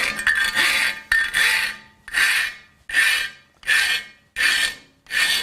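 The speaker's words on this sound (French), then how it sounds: "Donc je lime." A hand file rasps across a metal workpiece in seven regular strokes, each a loud gritty scrape followed by a short pause, close and steady in rhythm.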